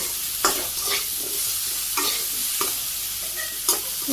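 Potatoes being sautéed in a pan in a village kitchen, a steady close sizzle with several distinct stirring scrapes spaced out over a few seconds.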